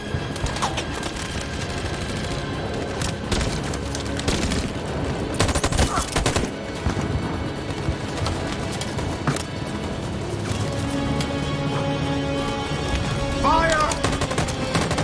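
Gunfire in the video game Detroit: Become Human, dense rapid automatic bursts and overlapping shots rattling continuously throughout, with voices shouting amid the shooting.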